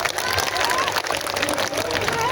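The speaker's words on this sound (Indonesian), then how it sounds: "Tepuk tangan untuk Mas Agus." Crowd applause at an outdoor Islamic sermon gathering in a field in Bangunsari, Dolopo, Madiun, dense and steady clapping with a murmuring crowd, loud and continuous throughout.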